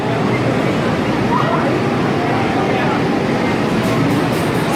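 A backwards launch of the Mr. Freeze roller coaster at Six Flags St. Louis, with a loud, steady rushing rumble that fills the whole stretch, heard in wet, stormy weather.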